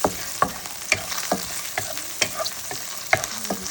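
Garlic frying in a pan for cilantro fried rice: a soft continuous sizzle broken by sharp stirring scrapes and clinks roughly every half second, close up and with no talking.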